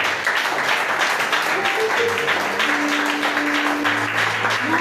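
A church congregation claps and cheers in praise of Jesus, a dense, steady wash of applause filling the room throughout, with sustained music or singing tones running underneath.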